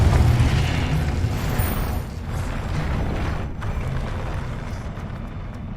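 A Confringo spell explodes in the Hogwarts Legacy video game, a loud, dense blast with rumbling low booms that hold steady across the clip without easing off, and no talk over it.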